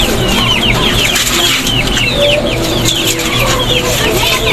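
Chickens cluck busily close by, overlapping bursts of clucks and calls with a faint rural background hum.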